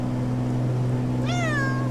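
A house cat lets out a single rising meow near the end, close and clear over a steady low hum in a room.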